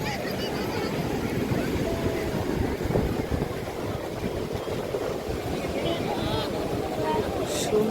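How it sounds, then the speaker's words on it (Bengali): Sea waves wash continuously along the seashore at dawn near a fish-landing area, a steady, dense roar of surf that stays close and fairly loud while people talk over it. "সমুদ্রের ধারে"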